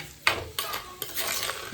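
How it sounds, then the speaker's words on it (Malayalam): Pots and dishes being washed clink and clatter in a few sharp, close knocks of metal against metal, quick and uneven. "കുറച്ച് പാത്രം കഴുകാണ്ട് അതൊക്കെ ഒന്ന് കഴുകി വെക്കാം"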